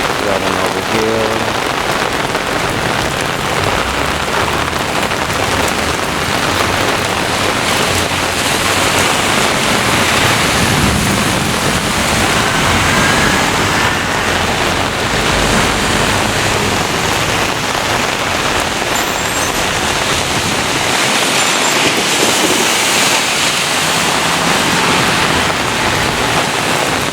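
Heavy downpour during a severe thunderstorm in Brooklyn, New York, a dense, constant roar of rain pounding surfaces, loud and unbroken throughout with no clear voices.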